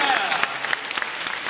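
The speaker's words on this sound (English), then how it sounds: "I think that deserves a round of applause" A comedy show audience breaks into applause, with steady clapping from a crowd. A voice briefly speaks over it.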